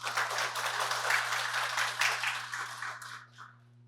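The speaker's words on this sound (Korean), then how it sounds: "큰 박수 부탁드립니다." Audience applause at a 2024 gender-equality policy debate forum in Incheon, greeting the foundation president. A dense, steady wash of clapping over a low hum runs for about three seconds, then thins and fades out.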